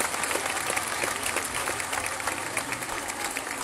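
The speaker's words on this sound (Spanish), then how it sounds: "Se llama 2 aplausos por el precio de 1" A large audience at a children's choir and orchestra presentation applauds, with dense, steady clapping that fills the space evenly at moderate volume and continues without a break for several seconds.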